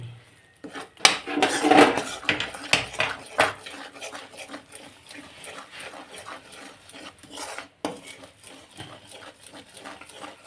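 Besan halwa being stirred with a spoon in a pan: repeated metallic scrapes and clinks in an irregular rhythm, close and moderately loud, with a short pause partway through.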